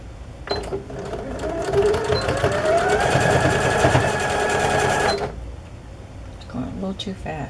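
A sewing machine runs a straight stitch through a vintage quilt in one continuous, fast whirring burst of about five seconds, followed by quieter handling sounds.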